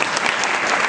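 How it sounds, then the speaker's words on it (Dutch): Loud, dense audience applause at a school party, steady and close for the whole second as a children's performance is introduced. "Applaus graag."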